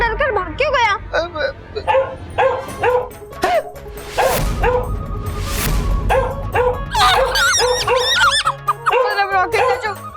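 A dog yips and whimpers in short high bursts amid lively talk between several people, with a noisy scuffle in the middle before the barking resumes.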